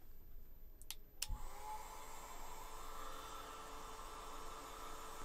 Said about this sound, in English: So I am going to turn the dryer on again. I am going to dry this side over here.